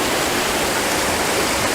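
Proxy Falls, a waterfall in Oregon, roars in a steady, dense broadband rush close by, with no voices over it.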